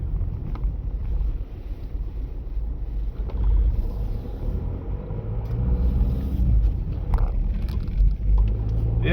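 Car driving at dusk, heard from inside as a steady low engine and road rumble with some wind noise, fairly loud and continuous, with no talking.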